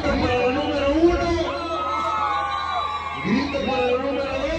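An event crowd shouts and cheers for couple number one in a contest, a loud mix of whoops and excited chatter rising in bursts, with voices talking over it.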